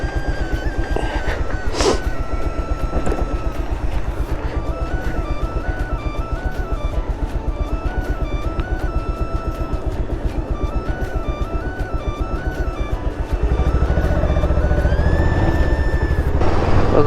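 Bajaj Pulsar 150 motorcycle engine with a timing chain noise fault, a steady close running drone with fast rhythmic ticking throughout, rising to a louder rev near the end, with no talk.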